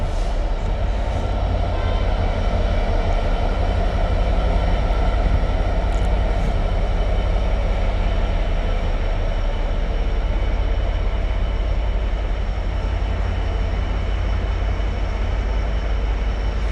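A freight train of tank wagons rolls steadily through Stafford station on the West Coast Main Line, a loud, continuous rumble and wheel noise that holds throughout without a break, with no talk over it.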